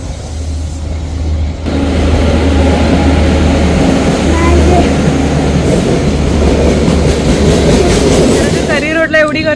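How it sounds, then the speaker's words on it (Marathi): A train rumbles loudly nearby with a steady low roar and clattering wheels as it pulls into a station at night, people talking faintly underneath. "आता ट्रेन आले"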